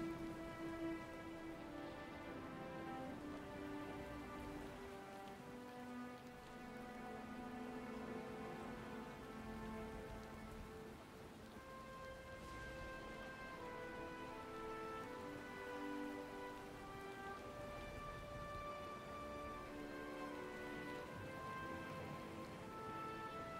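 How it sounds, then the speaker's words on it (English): Steady rain and storm ambience in the fantasy game Pillars of Eternity 2, a constant wash of downpour at even loudness, with sustained musical tones layered over it throughout. "Hats and cloaks turned against the rain. The crew guide Hexa through the unending downpour."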